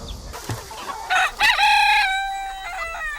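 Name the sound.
chickens clucking and crowing on a farm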